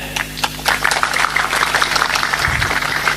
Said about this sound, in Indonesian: Dia tepuk tangan itu paham.